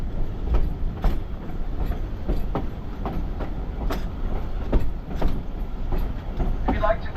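A Shay steam locomotive hauls a train on the Yosemite Mountain Sugar Pine Railroad, with rhythmic clickety-clack of wheels over rail joints and a steady rumbling roll, heard close from aboard the moving cars.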